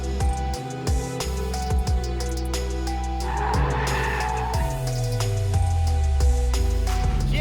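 A car drifts around a skid pad under hot sun, its tires squealing and skidding in long repeated bursts over a loud, rising and falling engine roar.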